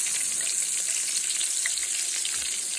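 Green tomato slices frying in a pan, a continuous bright hissing sizzle with faint bubbling pops, steady and close, no talking.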